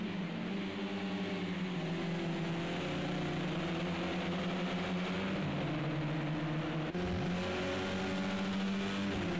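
Touring cars racing side by side at Oulton Park in Project CARS 2, a continuous layered engine drone with shifting pitches as several cars rev together, loud and steady throughout.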